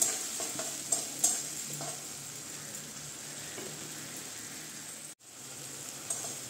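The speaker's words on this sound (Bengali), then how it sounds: "এর মধ্যে আমি এখন পেঁয়াজ রসুন আদা আর কাঁচা লঙ্কার পেস্টটা দিয়ে দিচ্ছি।" Onion, garlic, ginger and green chilli paste sizzles steadily with spices in a pan, a fairly quiet continuous fry broken by occasional stirring scrapes and a brief dropout near the end.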